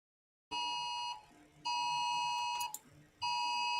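A phone repeatedly sounds notification alerts: three loud, sustained electronic beep tones with bright ringing overtones, separated by short pauses and heard alone with no voices.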